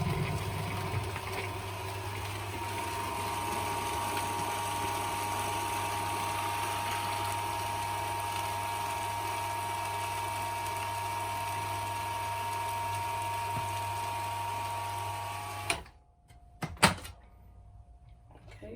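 An electric mixer beats butter aboard a narrowboat, a steady motor whine droning loud and unbroken for about fifteen seconds before it cuts off, followed by a few clattering knocks.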